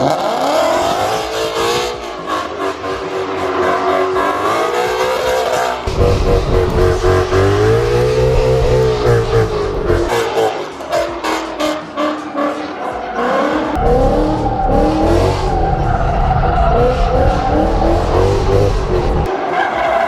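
A Ford Mustang GT revs loudly and hard, its roaring engine rising and falling close by with sustained screeching tire squeal through most of the stretch; no one talks over it.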